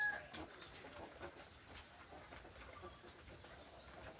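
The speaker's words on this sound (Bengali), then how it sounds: "বাইরে প্রায় 6 জোড়া মতন কবুতর আছে।" Pigeons in a loft make soft, low cooing and rustling, faint and irregular against a quiet background, about six pairs kept outside.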